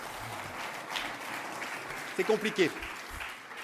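Sustained applause from the audience at a political rally, a broad wash of clapping heard under a speaker's amplified voice, with a few short phrases rising above it.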